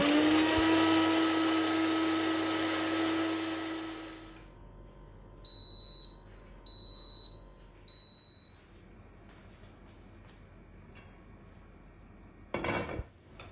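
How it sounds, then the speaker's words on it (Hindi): A mixer runs for about four seconds, grinding browned fried onion with two tablespoons of yogurt in a loud, steady motor whine that then stops. Three short beeps and a few clattering knocks follow. "जो एक प्याज हम लोगों ने पहले ब्राउन करके निकाले थे उसको है ना 2 टेबलस्पून दही के साथ पीस लेंगे"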